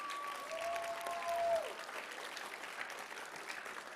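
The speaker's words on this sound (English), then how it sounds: "Give a round of applause." Audience applause at a school violence prevention assembly, a steady wash of clapping that holds evenly for the whole stretch, with a faint whistling tone early on.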